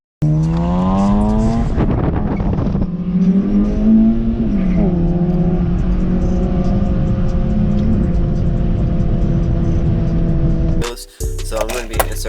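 An Acura RSX engine revs hard while driving, its pitch climbing and sliding through the gears in a loud, close drone before cutting off abruptly near the end.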